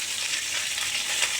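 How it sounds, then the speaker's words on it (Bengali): Onions and capsicum go into a hot pan where garlic and ginger are already frying for a spicy chicken dish, giving a brief, steady, hissing sizzle heard close and alone. "পেঁয়াজ দিয়ে দেব।"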